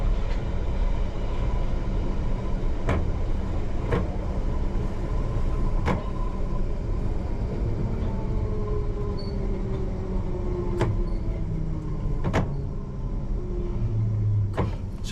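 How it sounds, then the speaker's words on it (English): London Underground Piccadilly Line train heard from the cab at night, pulling into North Ealing station, with a steady rumbling roll, rhythmic clicks of wheels over rail joints and a falling motor whine as it slows. "just coming into the least used station on the Piccadilly Line, which is North Ealing"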